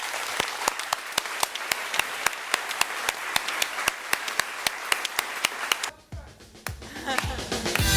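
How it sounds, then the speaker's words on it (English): Conference audience at an energy-efficiency summer study applauding the presenters: steady, dense clapping from many hands fills the room, with sharp regular claps standing out, then it thins and fades into scattered claps and room noise near the end. "can we please applaud the presenters?"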